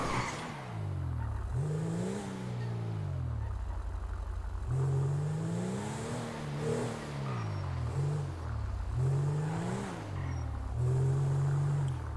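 A car engine in a GTA video game revs up and down in repeated swelling waves, steady and fairly loud, with no talking over it.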